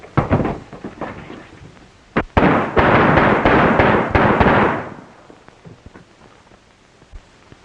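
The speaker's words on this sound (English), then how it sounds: "let's riddle him with bullets" A volley of gunfire is aimed at a man in a 1934 Western film. A few scattered shots lead into a dense, roaring burst of rapid firing lasting about two seconds, and a few faint pops follow.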